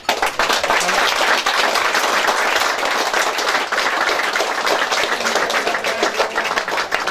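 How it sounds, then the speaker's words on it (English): An audience at a cheque presentation for the Mark Quinn Tractor Run claps in a dense, continuous round of applause, loud and steady throughout with no talk over it. "So just want to say a big round of applause and thank you to everybody."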